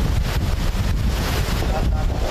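Strong wind roars and buffets the microphone over the rush of sea waves near San Vicente Port during heavy rain, with a person talking faintly under the noise.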